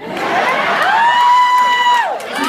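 A crowd cheers and whoops loudly, with high sustained shouts rising and falling over a continuous roar of voices.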